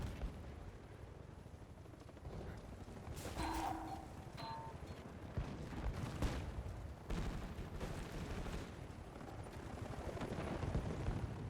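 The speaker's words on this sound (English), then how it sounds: "Still don't know whose helicopter that is" A helicopter in the Call of Duty MW4 beta rumbles faintly and steadily in the distance, broken by sharp bursts of gunfire.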